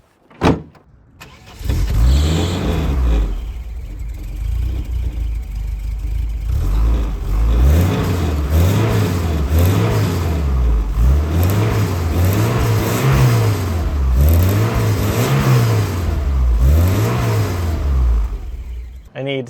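A 1977 BMW 320i (E21) car engine starts with a bang and then revs, rising and falling in repeated cycles as it accelerates, loud and close throughout.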